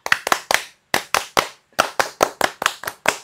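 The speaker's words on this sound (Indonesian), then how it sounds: "Tepuk Pramuka." Group of people performing the rhythmic Scout clap, Tepuk Pramuka: sharp, loud hand claps in a patterned sequence of quick bursts separated by brief pauses.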